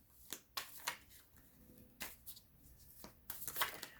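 Tarot cards handled and shuffled in a handful of separate sharp riffles and snaps, close but soft, with quiet pauses between them and no talking.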